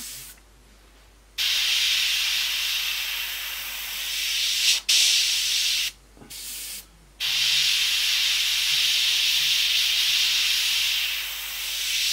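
An airbrush at 8 to 10 psi sprays paint onto a 1/48 Airfix Hawker Sea Hurricane Mk.Ib scale model, giving steady close hissing bursts broken by several short pauses.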